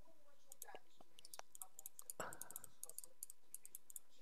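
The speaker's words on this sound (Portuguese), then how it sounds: "Ai, tão bonitinho o barulhinho de mouse, gente." Small crisp clicks tap out in an irregular run, close and quiet, with a faint murmur of a voice underneath.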